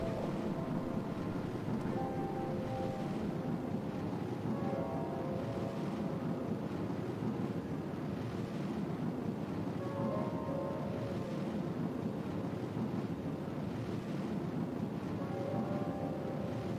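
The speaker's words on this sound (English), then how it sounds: "Nuclear engine again, very efficient, just not very powerful." A nuclear rocket engine burns steadily in a space video game, giving a constant, even low roar with a soft airy hiss that holds at one level and never changes.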